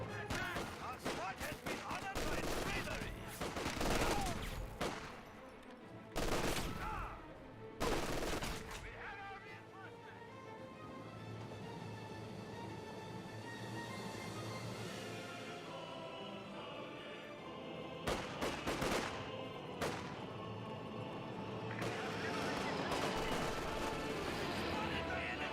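Bren carrier machine-gun fire and battle noise from Company of Heroes 2 crackle in sharp repeated bursts, loud at first, then fading to a low rumbling background before more volleys return.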